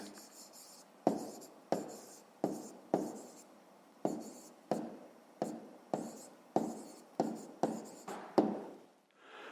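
Pen strokes on paper as answers to a fifth-grade math problem are written down, a quick rhythmic series of close, soft scratches and taps with brief pauses, quiet and without talking.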